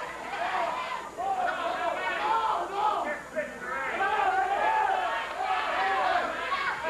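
A wrestling arena crowd in Memphis cheers and shouts throughout, a dense roar of many voices with rising whoops, holding steady and close for about seven seconds.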